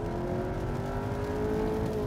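Skoda Kodiaq RS pulling away hard from a standstill in comfort mode, a steady engine drone with a rising tone held throughout, heard from inside the cabin with no talking.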